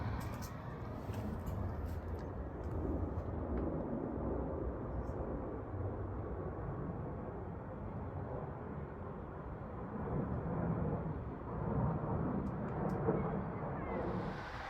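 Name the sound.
airplane flying over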